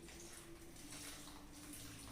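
Water poured steadily into vada batter, a faint continuous splashing trickle over a low background hum, with no speech.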